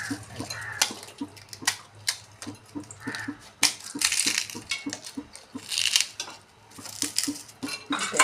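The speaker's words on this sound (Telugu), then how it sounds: "ఇప్పుడు ఇందులో అప్పాలు చిన్న వేసుకోవాలి" Small papads tumble into a papad mixture with repeated crisp crunches and clinks, a rhythmic series of sharp crackling hits that grows busier and louder partway through.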